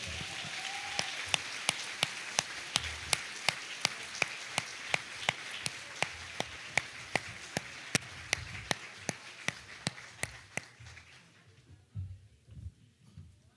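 Congregation at a New Year's Eve church service applauding together, a dense crowd wash with steady rhythmic claps marking a beat, fading out near the end as a few voices murmur.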